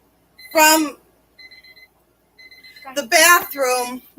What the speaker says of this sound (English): So that is the timer